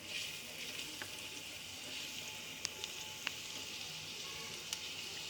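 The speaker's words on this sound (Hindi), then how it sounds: "लहसुन अदरक डाल दिया, हल्का सा फ्राई करेंगे" Garlic and ginger sizzle steadily in a hot pan, close and continuous, with a few faint clicks and taps of stirring.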